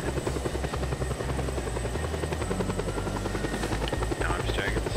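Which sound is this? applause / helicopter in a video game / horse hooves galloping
helicopter in a video game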